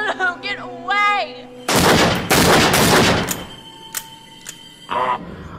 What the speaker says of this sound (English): I shot Ashley.